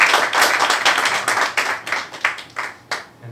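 Audience applause and scattered claps in a small New York comedy club after a comedian's joke, a dense loud burst that gradually thins and fades with a few final claps.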